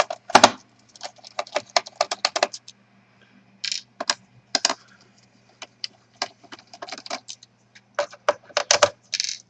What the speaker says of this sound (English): Now we have to remove the screws because the whole bottom cover should come off.